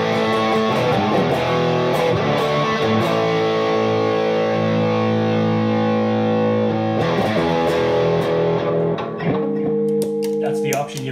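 Heavily distorted electric guitar chords from a T-Rex Magnus distortion pedal ring out, sustained and loud, with a couple of fresh strums cutting through the fuzzy, saturated tone.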